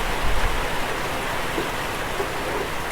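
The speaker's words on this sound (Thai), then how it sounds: "ฝนกำลังตกหนักมากนะครับ" Heavy rain at the ferry pier on Koh Sukorn in strong wind, a loud, dense, continuous hiss of downpour close by with no talk.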